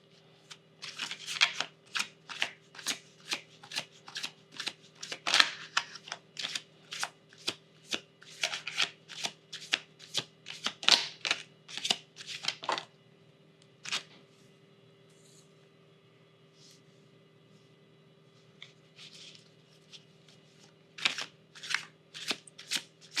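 A tarot card deck is shuffled in rapid, crisp riffling bursts that repeat steadily, pause briefly near the end, then resume, close and fairly loud with no talking.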